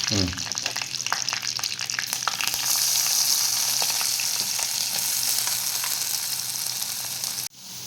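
Masala with grated coconut and curry leaves sizzles and crackles steadily in a hot pan for a clam roast, with occasional scraping and stirring clatter, close and continuous.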